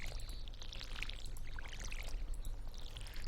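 Watering crops with a watering can in Stardew Valley: a continuous, even splashing pour that carries steadily through the whole stretch, with soft bright droplet sparkles on top and no talk.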